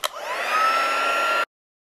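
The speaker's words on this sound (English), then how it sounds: "I'm going to bring in my embossing gun, my heat gun, turn it on to high speed" An embossing heat gun on its high setting blows a steady, fairly loud whirring hiss for about a second and a half, then cuts off to silence.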